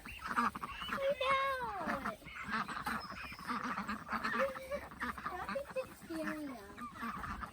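Ducks quack and honk in a noisy outdoor flock, calls overlapping repeatedly at close range, with some talking mixed in.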